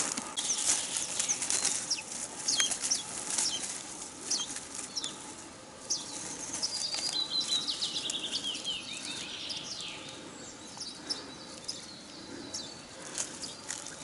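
A hazel grouse hen beats her wings in June forest near her nest, feigning injury: a run of uneven fluttering flaps and rustles, close by, with high chirps and bird calls scattered through.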